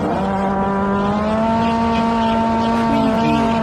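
Hot Wheels toy cars, including a Camaro, race down the Baja Cutoff Canyon track, giving a steady high whirring engine-like drone with shifting pitch tones that holds throughout.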